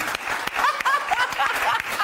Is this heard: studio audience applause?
yes